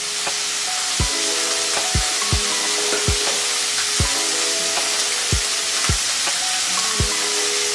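Pizza sauce sizzling in a pan with herbed rice, a dense steady frying hiss punctuated by about eight regular low thuds roughly once a second, close and without talk.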